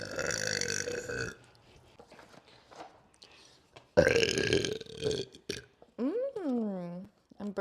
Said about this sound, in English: I'm burping with no drink in me yet